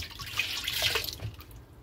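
Water runs and splashes steadily from a tap for washing clothes, a close, continuous gush with no voices.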